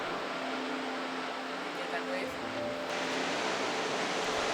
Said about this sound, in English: Listen to the waves crashing.